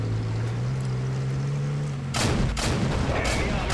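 A Covenanter light tank fires its gun in a video game: a sudden loud boom after an engine drone, followed by rumbling echoes and a second blast.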